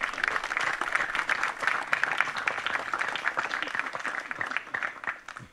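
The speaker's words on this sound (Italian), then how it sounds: "Un applauso all'onorevole Sgarbi." Audience applause at an evening opening of the Università d'Estate summer school in Soveria Mannelli, Calabria, welcoming Vittorio Sgarbi: steady, dense clapping from a seated crowd that holds throughout and begins to taper at the end.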